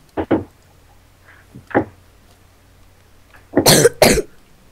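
A sick person gives a few sharp coughs, a short pair near the start and a louder burst later, close by with quiet pauses between.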